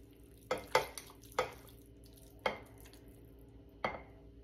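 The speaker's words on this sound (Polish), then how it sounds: "Możemy nakładać do słoików." A spoon scoops cooked chicken pieces into 450 ml glass jars, giving about six sharp, close clinks and knocks spaced irregularly over quiet background.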